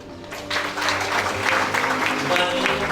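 An audience claps at an Indonesian business gathering, a dense, steady patter of many hands that swells after a brief start and keeps going at an even level without talk.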